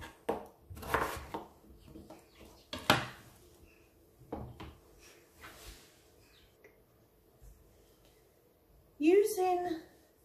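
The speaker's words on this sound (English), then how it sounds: "you need to cut, using your claw, your potato into more manageable size chunks" A knife chops potatoes into chunks on a cutting board with a handful of sharp, separate knocks spaced a second or two apart, close and fairly quiet, while someone talks in between.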